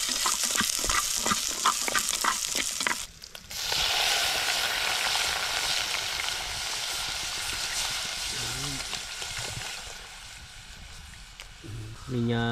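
Pork fat frying in a pan while cooking outdoors in a forest camp, a steady broadband sizzle with scraping stirs, a brief pause near the start, and voices talking over it toward the end.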